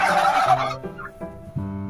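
A turkey gobbles loudly and close by, a rapid rattling call followed by shorter gobbling bursts, with no talking.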